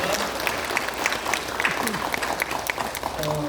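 A church congregation claps in a steady burst of applause during an early-morning prayer service, with a voice speaking over it near the end.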